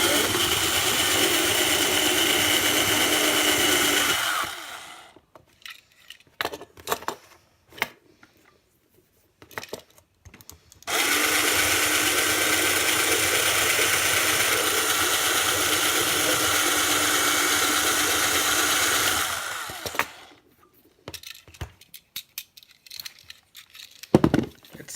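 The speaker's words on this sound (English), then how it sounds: "let's drill this thing out" A power drill whines steadily for several seconds, stops, then runs again for a long stretch, drilling out rivets on a Hot Wheels toy car, with scattered clicks and knocks in the pauses between.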